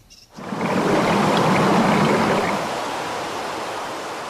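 Water bubbles and rushes steadily along the upper Jordan River in Israel, a dense, continuous close-up wash of flowing water with no voices.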